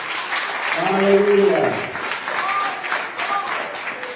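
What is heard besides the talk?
church congregation applauding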